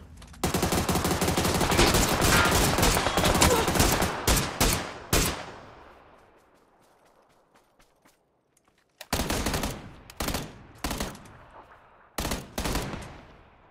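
Rapid gunfire in PUBG: Battlegrounds: a long sustained automatic burst for several seconds, then quiet, then a few separate sharp shot clusters, loud and close.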